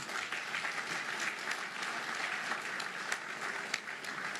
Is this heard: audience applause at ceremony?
yes